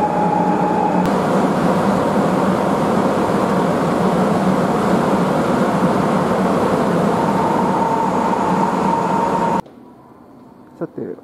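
Sapporo Municipal Subway Tozai Line train running, a loud, steady rumble and whir with a faint rising tone heard from inside the car, ending suddenly in a much quieter stretch.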